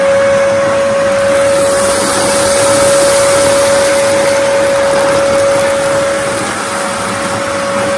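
A Henry Turbo 160 vacuum cleaner with an 1100 watt motor runs steadily and loudly throughout, a constant close whine with a sustained tonal hum and no talking.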